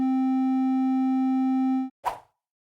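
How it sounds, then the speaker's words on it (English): A clean, pure sine tone generated in Ableton holds steady and loud for about two seconds, then cuts off, followed by a brief soft thump. "clean sine wave. We can see how pure it is by observing just a single tone in the spectrum analyzer."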